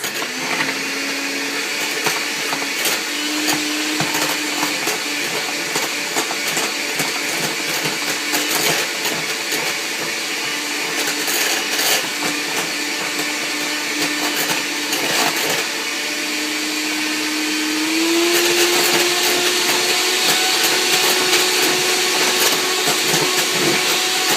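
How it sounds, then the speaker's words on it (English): Electric hand mixer with beaters whirring steadily through a thick pumpkin-pie-style mixture, a loud continuous motor drone whose pitch shifts slightly and rises near the end. "I'm just going to use a regular beaters, a mixer. And mix."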